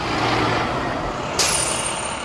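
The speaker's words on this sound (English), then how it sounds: "The buses pulled up to the front doors Wednesday morning" A school bus pulls up to the front doors on a Wednesday morning, with a steady low engine rumble and one sharp, hissing air-brake release partway through.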